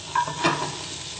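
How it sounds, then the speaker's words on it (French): A brief stir of mushrooms in a pot of boiling water with glass noodles for a vegetable tofu soup, with a soft scraping swirl and light bubbling, close and alone. "Je mélange un petit peu les champignons."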